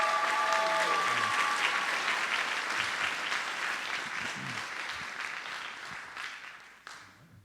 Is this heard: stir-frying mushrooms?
no